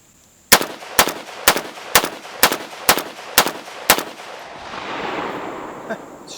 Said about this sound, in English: And this is with the JMAC Customs muzzle brake.